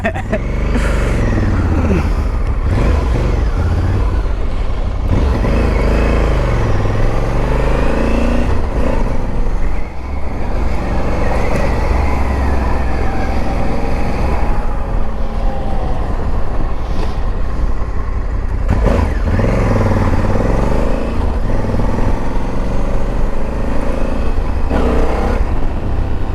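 A Honda CRF1100L Africa Twin Adventure Sports motorcycle rides continuously with a steady, loud engine drone and road rumble that rises and falls in pitch as it accelerates and shifts, lasting throughout.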